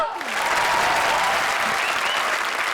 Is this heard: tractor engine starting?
no